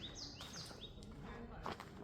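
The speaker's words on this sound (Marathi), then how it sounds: "पक्ष्यांचे आवाज ऐकू शकतात तुम्ही" Several small birds call and chirp along a jungle footpath, with short bright descending whistles repeating through the moment, fairly faint in an otherwise quiet setting.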